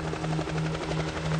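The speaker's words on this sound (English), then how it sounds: "She could hear a helicopter. It was close." A helicopter hovering close by in the visual novel Steins;Gate 0, a steady throbbing rotor pulse with a constant low drone, heard alone and fairly loud.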